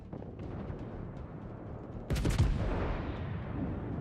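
A heavy naval gun salvo from HMS Bellerophon in World of Warships fires once, a sudden loud boom that rolls away, after steady low ambient engine and sea rumble.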